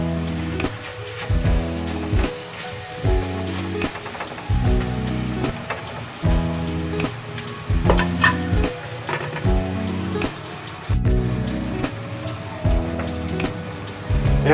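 Galunggong fish frying in a pan for ginataang fried galunggong, with a loud, continuous sizzle and crackle close by, under a steady background music loop.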